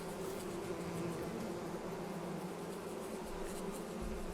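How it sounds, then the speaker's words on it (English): Bees swarm around beehives on a farm in Farming Simulator 22, making a continuous, even buzzing hum that runs steadily throughout without speech. "I've never had this many bees."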